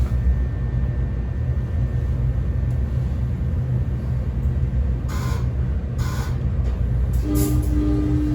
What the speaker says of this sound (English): Get to hear that Westinghouse AA2 horn.